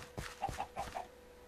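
Chicken clucking in the video game Minecraft, a short run of three or four quick, soft clucks with nobody talking.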